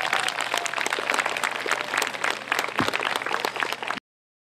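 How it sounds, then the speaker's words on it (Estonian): A crowd at an Estonian accordion festival gives big applause for a procession of accordion players, dense, lively clapping that stays loud and steady for about four seconds and then cuts off abruptly into silence. "Teeme neile suure aplausi"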